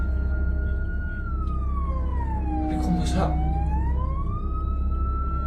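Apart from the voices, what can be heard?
ambulance siren sounding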